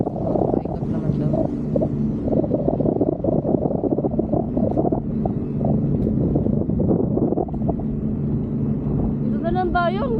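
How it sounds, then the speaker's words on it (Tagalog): Strong wind buffets the microphone in a constant loud roar while parasailing in Boracay, with voices talking over it throughout. "Ang hangin, no?"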